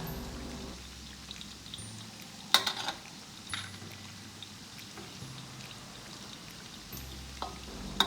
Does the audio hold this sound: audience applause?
no